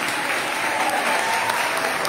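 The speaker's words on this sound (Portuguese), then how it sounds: "o tal de Sérgio Alves, que eu queria uma salva de palmas também" Audience applause, a loud, dense and even wash of clapping that fills the short moment without a break.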